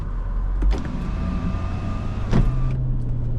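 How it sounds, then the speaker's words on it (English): Sunroof of a 2001 Mercedes-Benz ML55 AMG motoring shut while driving on a highway, a steady electric whir over road and cabin hum, ending with a soft clunk as it seats. "I realized that my, whatever, my sunroof vented, so close that up."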